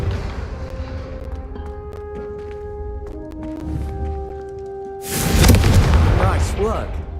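A Confringo spell in Hogwarts Legacy blasts candelabras, landing as a loud fiery burst with a crackling roar that follows a stretch of quieter game ambience and musical tones.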